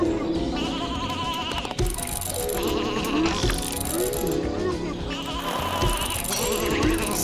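Cartoonish sheep bleats in the video game Sven Zwo, repeated over bouncy game music, with several wavering baas spread across the stretch.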